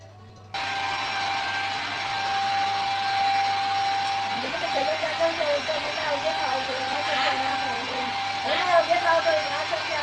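Vacuum cleaner switching on and running with a steady, loud whine and broad roar throughout, while a voice talks over the motor in the second half.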